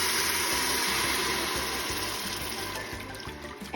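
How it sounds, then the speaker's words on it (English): Beef stock pours into a stew pot in a steady, close, continuous gush of splashing liquid that holds for a few seconds and tapers near the end, with no talking. "add 1 litre of beef stock."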